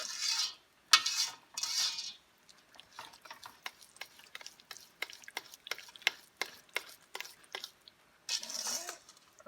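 A spoon stirring and scraping the sides of a pot of orange plum jam with sugar, quiet irregular clicks and scrapes in a loose rhythm, broken by a few brief louder swishes.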